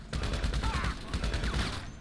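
Rapid, dense gunfire in a GTA heist shootout, a close, loud fusillade of overlapping shots hammering continuously for about two seconds.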